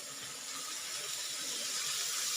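Spinach for aloo palak hits a hot pan with a steady, bright sizzle and hiss, continuous and fairly close for a couple of seconds with no talk over it.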